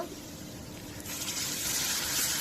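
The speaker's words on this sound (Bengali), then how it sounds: "এখন একটু পানি দিয়ে দিব" Water poured into a pan of frying onions, a steady rushing splash that swells and grows louder over a couple of seconds, close by, with no voices.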